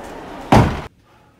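A door slams shut with one loud, sharp thud that rings briefly before cutting off to near silence, after a low background hum, in a high school short film.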